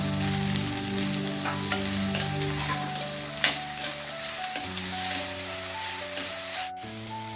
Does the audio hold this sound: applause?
no